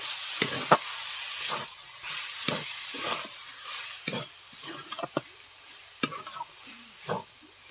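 Cabbage filling with green chilies and coriander leaves stirred in a pan, with repeated scraping spatula strokes and a light sizzle underneath, close and steady, no voices.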